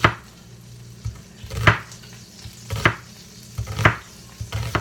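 A knife chops an onion finely on a cutting board, sharp irregular thuds spaced about a second apart over a faint background hiss, no voices.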